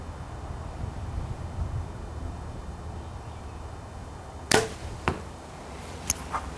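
A hand-made arrow released from a bow at a target 40 yards away, a single sharp snap of the shot followed by a couple of fainter impact knocks over a steady outdoor hiss.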